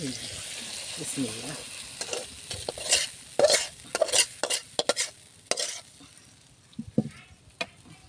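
Eggplant frying in a pan with a spatula stirring and scraping, loud irregular clacks and scrapes over a background sizzle, a brief bit of voice near the start.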